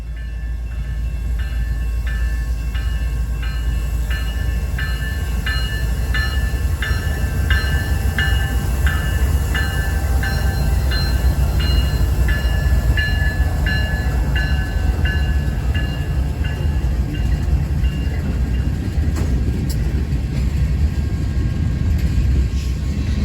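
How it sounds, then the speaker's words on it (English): A short BNSF freight train rolls past a station stop with a loud, steady rumble and grinding wheel noise that holds throughout, with no voices. "a short BNSF freight passed by"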